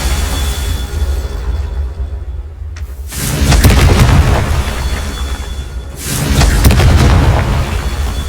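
Confringo blasting spells in the video game Hogwarts Legacy burst into two loud, deep booming explosions a few seconds apart, each with a rumbling tail, over steady background game ambience.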